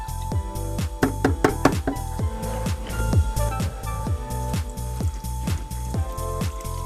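Descaling solution being stirred in a plastic bucket for flushing a tankless water heater: a series of hollow knocks and wet sloshing bursts, close and fairly loud, over a steady background hum.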